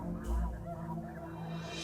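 Snow geese honk out on a coastal sandbar, a short burst of nasal calls at middle distance over steady background noise.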